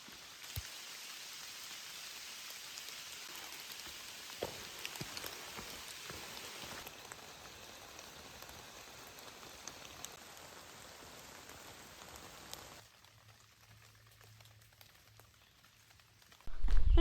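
Rain falls steadily on the Appalachian Trail during a lightning storm, a broad hiss with scattered close drop impacts and taps, thinning to a quieter patter near the end before a sudden loud bump.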